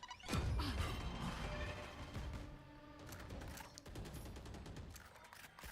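A swamp grenade is placed in an Overwatch match, with a burst of clattering impacts and gunfire-like crackles followed by a series of sharp, scattered mechanical clicks and thuds.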